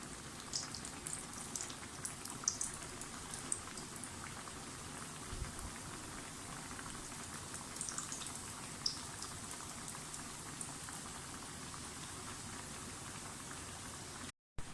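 Kachoris with keema and vegetable filling frying in hot oil on a medium-low flame, a soft continuous sizzle and crackle with scattered bubbling pops, close and steady throughout.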